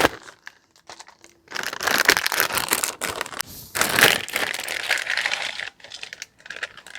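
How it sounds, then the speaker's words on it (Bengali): Two Lay's potato chip packets being cut open at close range, with dense crinkling and crackling of the foil bags in bursts separated by short pauses. "লেস প্যাকেট দুটো কেটে নেব।"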